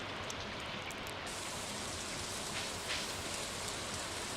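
Steady rain falls in the Stardew Valley video game, a continuous soft hiss of drops on surfaces at even volume with no voices.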